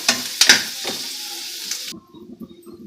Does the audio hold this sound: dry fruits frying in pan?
yes